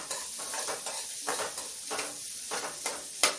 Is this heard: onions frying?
yes